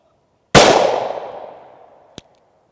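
A single loud, close shot from a 9mm pistol firing a CCI shotshell round, with a long decaying ring, then a small sharp metallic click about a second and a half later.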